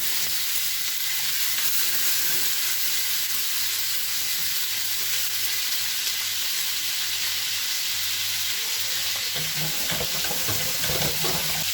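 Meat skewers and a leg of lamb for couscous royal sizzle and fry in a pan with a continuous, even crackling hiss that stays steady throughout, with faint stirring clatter late on.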